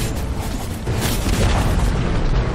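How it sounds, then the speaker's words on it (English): A tower collapsing in Dota 2, a loud, heavy booming crash with rumbling low end that swells and sustains for a couple of seconds. "Dire's middle tower has fallen."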